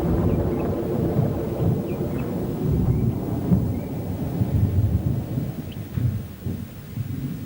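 Low rumbling thunder of a storm brewing over the African bush rolls continuously at a distance, a deep, steady murmur with faint swells and no voices.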